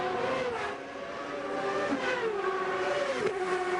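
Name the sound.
IndyCar race car engine accelerating through sequential gearbox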